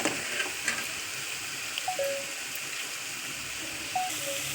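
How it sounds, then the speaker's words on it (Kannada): Gobi Manchurian ingredients fry in a pan with lemon juice added, giving a steady close sizzle and hiss, broken by a few light clinks of stirring. "ಈಗ ಅದೆಲ್ಲ ಫ್ರೈ ಆಯಿತು."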